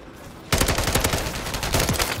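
Fully automatic gunfire in Call of Duty: Modern Warfare III starts suddenly after a brief quiet moment and continues as a loud, close, rapid stream of shots.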